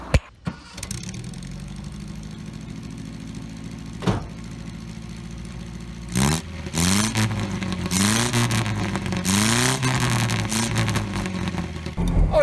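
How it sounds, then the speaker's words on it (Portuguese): An Austin A30 classic car with a small 38-horsepower engine starts, idles roughly, then revs and pulls away through several rising gear-change sweeps, loud and close from inside the cabin. "nós três vamos dar uma volta neste carrito de 38 cavalos"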